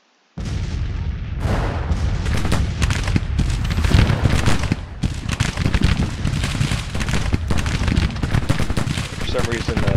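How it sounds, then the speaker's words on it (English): Musket volleys crash repeatedly across a Civil War battlefield at Apple Pie Ridge in Grand Tactician, dense overlapping rifle fire with booming artillery, loud and continuous, under a speaking voice. "Skirmishers are being hit by the volleys from our troops"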